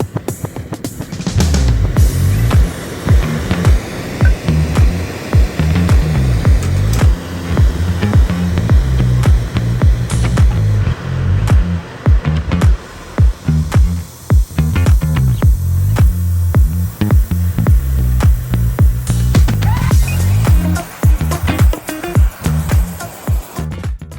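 Torch heating the cast iron table of a 1951 Walker Turner drill press, a steady loud roaring hiss broken by scattered crackles and pops, continuous and close.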